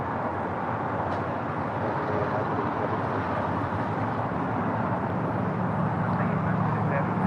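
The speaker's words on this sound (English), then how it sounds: "As the Emirates A380 now short funnel for 24 right, coming up from Dubai." An Emirates A380 arriving from Dubai on short final to runway 24 right, a steady broadband jet roar holding constant and fairly loud throughout, with a voice talking over it.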